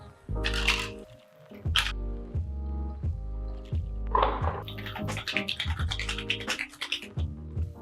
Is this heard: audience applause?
no